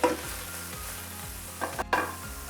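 Chicken with pesto and cherry tomatoes sizzling in a pan, a steady close frying hiss broken by a few scraping stirs of a utensil.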